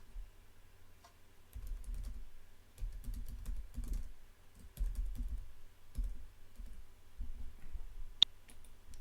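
Computer mouse clicks and keyboard-like taps while a chat form is filled in on a website, a quiet string of small, close clicks over a low room hum, with one sharp click near the end.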